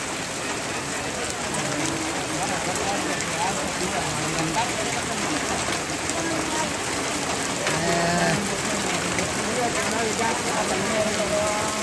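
Steady rain pours down through a traditional Toraja ceremony at a tongkonan house, a dense, continuous hiss of drops on surfaces that never lets up, with faint voices underneath.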